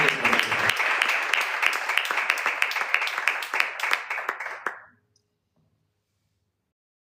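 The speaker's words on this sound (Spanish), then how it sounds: "Un aplauso a esta palabrita que" Steady crowd applause from a church congregation during a sermon, many hands clapping continuously for nearly five seconds, then fading quickly to silence.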